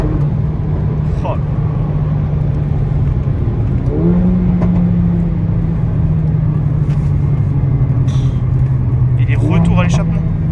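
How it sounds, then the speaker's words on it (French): Mercedes A45 AMG four-cylinder engine held at a steady drone through its exhaust, stepping up in pitch with two short throttle blips, loud and close, with a voice talking over it. "Oh, les anciennes A45 AMG, qu'est-ce qu'elles chantent, quoi."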